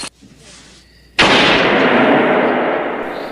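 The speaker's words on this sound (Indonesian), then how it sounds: "Travis kembali menembak si Sporty yang kali ini dia berhasil membuatnya terbunuh" A sharp gunshot blast erupts in a film scene after a brief quiet stretch, followed by a loud, sustained roaring decay that slowly fades.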